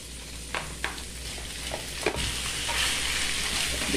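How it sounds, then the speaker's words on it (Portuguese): Flaked salted cod sautéing with vegetables and seasonings in a pan, giving a continuous close sizzle broken by a few sharp utensil taps early on, with no voices. "Deixa ele aqui refogar um pouquinho, né? Dar uma pré-cozida junto dessas verduras, desses temperos"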